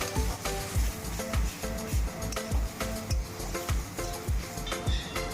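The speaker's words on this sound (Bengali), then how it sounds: "এবার কুচিয়ে রাখা টমেটো দিয়ে সেটাকে ভালো করে" Onion and tomato frying in a pan for an egg dal tadka made with very little oil, a steady sizzle under regular rhythmic scraping and stirring strokes, close and moderately loud, with no talk.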